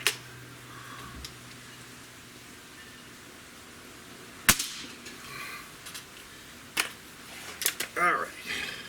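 A single sharp crack from a Gamo Hunter Extreme .25 air rifle rings out mid-way through quiet outdoor background, followed by a few fainter clicks and handling noises.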